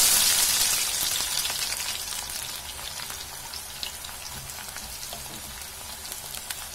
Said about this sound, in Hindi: ये प्याज ही हमें तलने पड़ते हैं